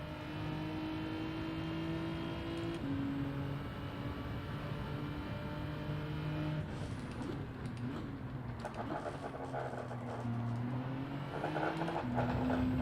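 Gran Turismo 7 race car engine droning steadily, with several gear shifts stepping the pitch up and down and rising and falling revs during downshifts, fairly quiet and without talk.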